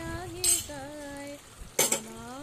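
Fried ground spices being stirred into a chicken maharani curry, with two short scraping clinks of a spoon against the pan under a steady tonal background hum.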